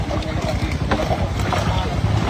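Strong typhoon wind buffeting during a tilapia harvest at a fish pond, a loud continuous rumbling roar of gusts battering the microphone throughout.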